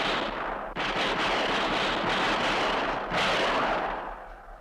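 Gunfire from a 1961 Japanese action film comes as a loud, dense barrage of blasts that runs almost continuously, with sharp new volleys breaking in before it fades slightly at the end.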